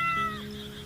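A cat meows once, close and clear, as a short drawn-out call that fades within a second, with no talking.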